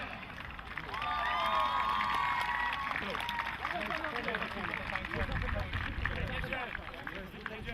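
Rugby crowd cheering and applauding after a conversion by the Lowlanders Białystok side, a loud swell of shouts and clapping that rises early then continues under an announcer's voice and crowd chatter.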